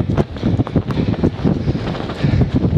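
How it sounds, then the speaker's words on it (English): Strong gusting wind buffets the microphone on the fell summit of Brim Fell near Coniston Old Man, a loud, rough rumble rising and falling in quick surges. "Let's get out of this wind."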